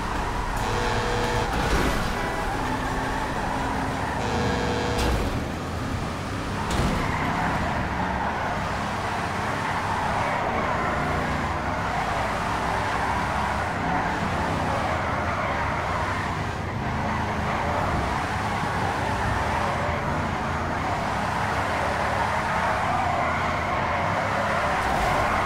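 Cars drifting in the video game GTA 5 produce a steady, loud engine drone with a smeared tire-squeal hiss that holds throughout, punctuated by a few sharp knocks early on.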